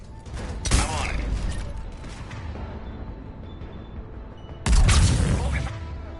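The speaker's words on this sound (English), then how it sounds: "Cannons initializing." Mass Effect 3 ship cannons arming: heavy mechanical clanks and a deep booming impact ring out twice, several seconds apart, each trailing into a low rumbling whir.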